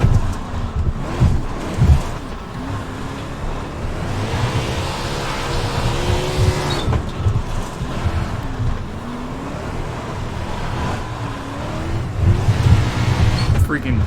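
Simulated car engine in a drift and race simulator game, held at full throttle with a steady rising drone and gear-like pitch sweeps, wind-like rush, and someone talking and whooping over it.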